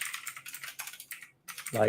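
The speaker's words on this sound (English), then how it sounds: "So sorry for the typing, I'm trying to make it quick." Rapid clicking on a computer keyboard comes in quick irregular bursts with a brief pause, close and clear, before a voice starts speaking at the end.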